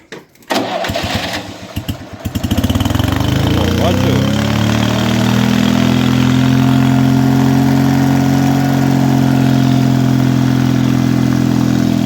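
A GAB 4T petrol generator engine starts after some clatter and settles into a loud, steady, close running drone with a constant low hum, and a voice briefly speaks near the beginning.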